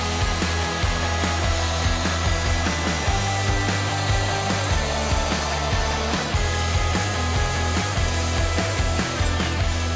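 A Festool TS 60 circular saw runs loud and close, a sustained motor whine with a cutting rasp layered over it and a dense low drone that stays steady from start to finish.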